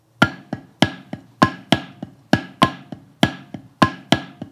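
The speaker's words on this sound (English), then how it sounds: "keeping our paradiddle sticking unified, but just adding these accents in" Paradiddle sticking played on a drum with added accents, a steady run of sharp close strokes where accented hits ring out louder than the softer ghosted notes between them, with no talking.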